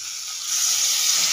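Water is poured onto sizzling masala in a pan for a soybean and peas dal, and a soft frying hiss swells into a louder, steady steamy sizzle partway through.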